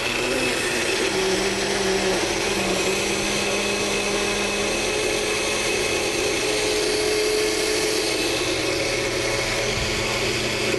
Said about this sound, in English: You put it on your blender here and give it a whirl.